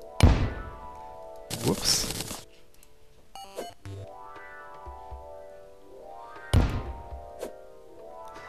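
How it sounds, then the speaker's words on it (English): Bombs explode in Terraria: three punchy blasts, a loud bang at the start, a noisy burst soon after and another later, mixed with chiming pickup tones and a voice speaking briefly. "I'm gonna stop wasting bombs now."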